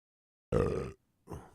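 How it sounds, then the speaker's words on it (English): A human burp, a short loud belch followed by a second smaller one after a brief pause, close and dry with no other sound. "weird time for me to burp"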